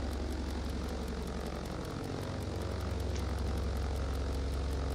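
The propeller engines of a BN2 Islander in Microsoft Flight Simulator 2024 hum at a steady, low, pulsing drone, with a faint rhythmic beat throughout and no talk.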